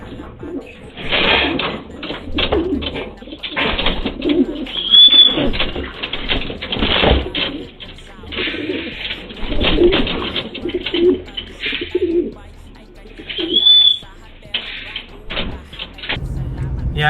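Racing pigeons set free at a release toss, with steady cooing and bursts of wing flapping across the whole stretch, close and fairly loud, while faint talk runs underneath.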